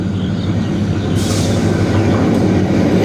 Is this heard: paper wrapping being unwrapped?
no